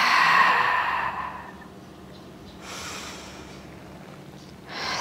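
Forceful exhaling during a Pilates chest lift, a long breathy rush of air near the microphone that fades out, followed by softer breaths.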